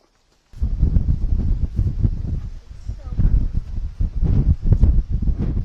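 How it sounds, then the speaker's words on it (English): Strong wind gusting across an exposed coastal hiking point, roaring as heavy low buffeting on the microphone that rises and falls in waves. "It is breezy here in Sheldon's Point, so we hit the point breezier than what I like."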